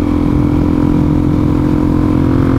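Suzuki DRZ400SM dual-sport motorcycle engine running steadily, a loud, close, continuous mid-pitched drone with no talking.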